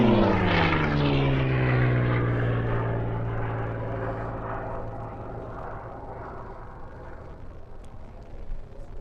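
Race plane number 27 roars past at the Reno Air Races, its loud, close propeller engine drone sweeping down in pitch as it passes, then fading steadily into the distance.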